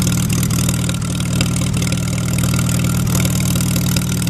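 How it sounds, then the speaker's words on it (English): Farmall B tractor engine idling steadily and loudly up close, a low throbbing run with a slight uneven stumble from a plug that is missing a little, with no voices over it. "We haven't run it much this year, and I think one of the plugs is missing a little."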